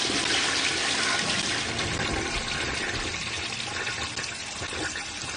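Water blasts steadily at a set of rods in an outdoor science experiment, a dense, continuous rushing hiss that stays loud for several seconds with only slight fading toward the end.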